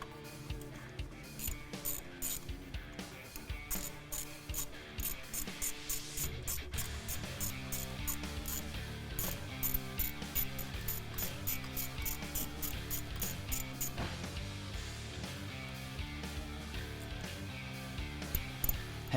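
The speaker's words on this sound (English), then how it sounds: "So we'll be removing this screw right here with our 10mm socket to start." A ratchet fitted with a 10mm socket backs out the screw on a MAP sensor of a Duramax L5P diesel engine, clicking in quick, repeated bursts of ratcheting strokes at close range with no talk.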